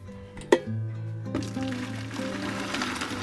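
Boiling water from a kettle pours into a container to dissolve sugar for elderflower champagne, a steady close liquid gush with a sharp clunk near the start, running continuously to the end.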